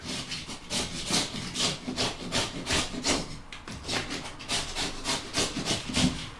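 Stubborn wallpaper being scraped off a plaster wall, the blade rasping in a steady run of short, close strokes with brief pauses between them and no talking.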